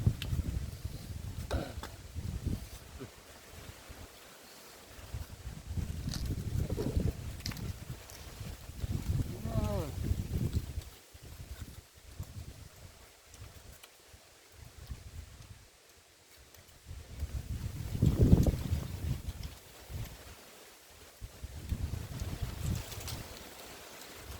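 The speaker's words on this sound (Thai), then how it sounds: "อากาศก็หนาวพี่น้องลมพัดเย็นลมพัดเด้อ" Cold wind blows outdoors in gusty swells and buffets the microphone, rising and falling over about twenty seconds, with someone talking at times between gusts.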